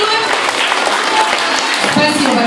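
Children at a summer camp applaud together, a steady dense wash of clapping from the whole group that stays fairly loud and even throughout.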